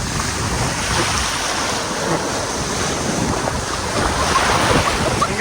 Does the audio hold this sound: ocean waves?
yes